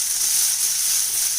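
Chopped onion and about ten cloves of finely chopped garlic frying in hot oil give a steady, close hiss that runs without a break and carries no speech.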